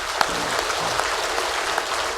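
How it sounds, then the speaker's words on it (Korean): Encouraging applause from a church congregation, a steady even patter of many hands clapping close by, with a few sharper claps standing out. "한 번 더 격려의 박수 한번 하시죠"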